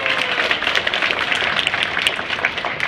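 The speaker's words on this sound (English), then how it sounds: "Applause, please." Dense applause from an audience, a steady wash of many hands clapping throughout with no pauses.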